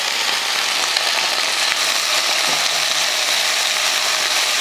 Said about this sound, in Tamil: அந்த எண்ணெயில் போட்டு இந்த புதினாவை கொஞ்சமாக வதக்கிடலாம்